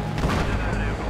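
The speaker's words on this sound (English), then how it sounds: "An IED just took off a tank." Explosive blast from an IED destroying a tank in Battlefield, a short heavy boom with crackling rumble, loud and close, with a voice reacting over it.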